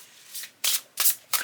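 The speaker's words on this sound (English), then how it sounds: "they're a little big for my hands to do the riffle shuffle" A deck of oversized oracle cards being riffle shuffled, with three sharp bursts of fluttering card riffles close up, separated by brief pauses.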